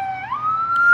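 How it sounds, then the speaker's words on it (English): A siren wails in the background, its tone sweeping upward and then holding a high steady pitch, fairly loud with no voices over it. "Excuse the siren in the background."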